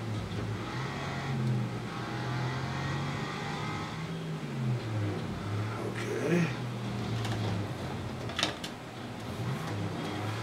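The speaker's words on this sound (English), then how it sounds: "It's got some kind of race engine in it." A race engine in a racing video game driven with an H-pattern shifter revs and shifts gears, a steady drone rising and falling with sharp bursts of acceleration, no talking heard.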